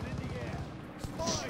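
Rapid bursts of gunfire in a first-person shooter video game, fairly close and sharp, crackling under a player's voice.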